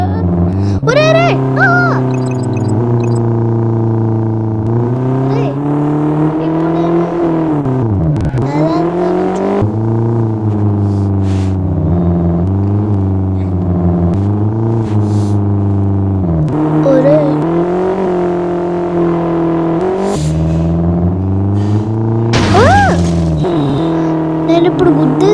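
Car engine in a driving game, steady revving that rises and falls, with shifting tones and a brief crash moment where the car hits an Audi, all continuous and loud throughout.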